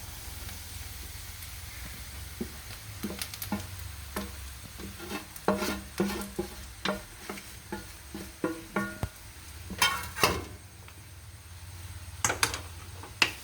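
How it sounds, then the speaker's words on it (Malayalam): Amrutham powder is stirred into well-browned fried onions in a pan, with a low background hiss and a run of irregular, close scraping and clinking spoon strokes that grow busier toward the end. "ഇത് നല്ലോണം ഇളക്കി കൊടുക്കാം."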